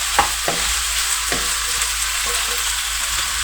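Green capsicum stirred and frying in a pasta pan with spicy chicken pasta, a steady loud sizzle broken by a few soft utensil scrapes and taps, no voices.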